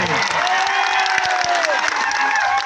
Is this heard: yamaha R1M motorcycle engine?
no